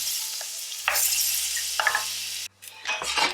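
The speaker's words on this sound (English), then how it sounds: "we're gonna take 2 tablespoons of butter. And we're gonna get it melted in here" Two tablespoons of butter melting in a hot pan, a steady bright sizzle with a few soft clinks and stirring scrapes, close and alone.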